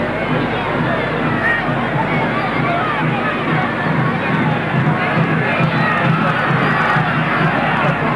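Football stadium crowd at a 1993 Newell's Old Boys versus Emelec friendly, a dense, steady roar of many voices and applause filling the whole stretch without a break.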